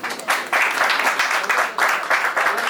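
Applause at a Punjab Kala Sahitya Academy award ceremony held in the Punjab Press Club: a crowd claps steadily and fairly loudly, swelling in waves for the full stretch.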